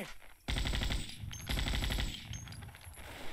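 An M60 machine gun fires in a Vietnam War video game as two long, loud, continuous bursts of rapid shots separated by a brief break, close and dominant, with no speech.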